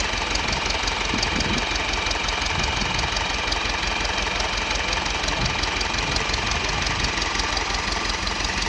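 A tractor engine idles close by with a rough, knocking low rumble and constant vibration, running alone without pause.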